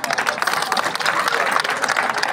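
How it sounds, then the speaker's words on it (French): An audience at a cultural festival event breaks into dense, sustained applause, loud and close, with many hands clapping together throughout. "applaudissements nourris"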